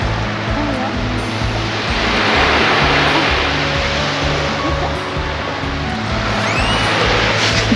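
Ocean waves break and wash onto a beach in a steady, loud surging hiss that swells and eases gently, with a low rumble underneath and brief faint sounds on top.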